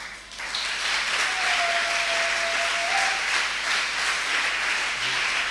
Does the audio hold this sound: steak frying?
no